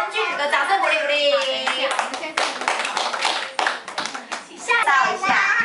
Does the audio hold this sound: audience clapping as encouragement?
yes